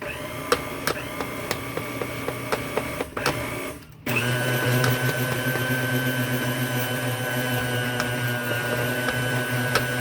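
A blender purees hot vegan butternut squash soup. A few light clicks are followed by a loud, steady motor whir that starts abruptly and runs close and continuous to the end.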